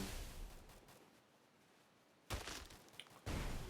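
Bursts of gunfire in the video game Free Fire, shots hammering a wall until it collapses; a quiet stretch gives way to two loud, sharp volleys near the end.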